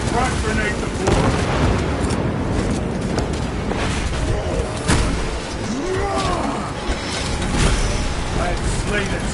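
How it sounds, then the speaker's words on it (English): A frag grenade blast thrown at the floor in a Warhammer video game, a loud booming explosion with rumbling debris amid continuous battle noise and roaring effects, with a voice talking over it. "Frag grenade the floor"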